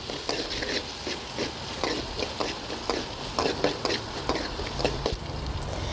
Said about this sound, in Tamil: வெங்காயம் நல்லா பொன்னிறமாகிற வரைக்கும் வதக்கிக்கணும்